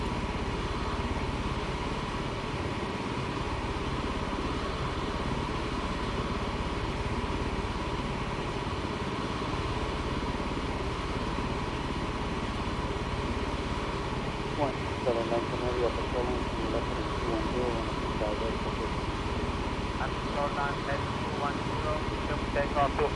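Steady drone of an MV-22B Osprey tiltrotor in flight simulator game, flying an evening route over the North Sea toward Heligoland; a continuous broadband engine and rotor hum runs throughout at even loudness, with a voice speaking over it.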